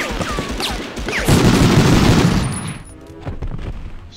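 Gunfire in the 1999 PS1 video game Medal of Honor, a loud volley of rapid shots swelling in the middle and then fading into scattered quieter pops and a short electronic tone.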